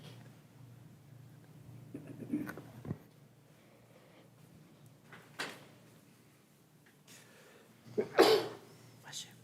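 A single short sneeze bursts out near the end of a county redistricting committee meeting, after quiet room noise and a few faint knocks and shuffles.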